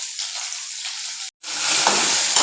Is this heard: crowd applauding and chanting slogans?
no